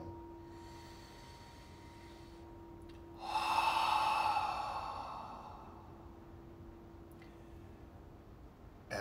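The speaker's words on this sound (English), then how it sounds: "Take a deep inhale." One long, slow breath during a guided meditation rises and fades over a few seconds, soft and close, over a steady low hum in a quiet room.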